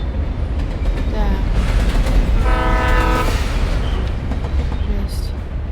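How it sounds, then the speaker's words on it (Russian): A train in the horror game Alan Wake rumbles past with a loud sustained horn blast in the middle, the heavy rolling noise steady throughout while a voice speaks over it. "А, это поезд."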